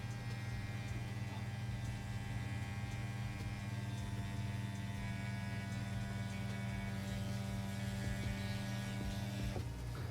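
A tattoo machine hums with a steady, even electric buzz while the needle runs a line into skin, quiet and continuous with no talking.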